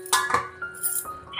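Light metallic clinks and a rattle as a lid is set onto a cooking pot holding a simmering bottle gourd and moong dal curry, a few short knocks close by and fairly quiet.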